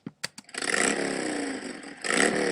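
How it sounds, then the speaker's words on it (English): A motorcycle sound effect from iMovie: a few sharp ticks, then the engine catches and runs with a rough, buzzing drone that revs up again near the end, loud and close. "neat sound effects, like a motorcycle,"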